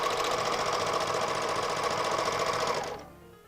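Serger stitching pajama pants, a fast even mechanical whir running for about three seconds before it stops and winds down.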